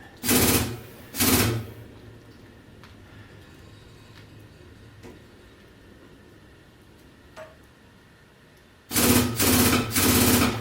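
Air-powered Rogue Fabrication M605 tube bender cycling: two short loud pneumatic bursts, a long quiet stretch with faint clicks, then three more loud bursts in a row, close by.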